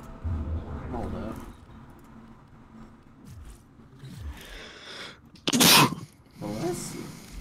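A single loud sneeze bursts out midway through a quiet room, set apart from the talk on either side, with a fan humming steadily in the background.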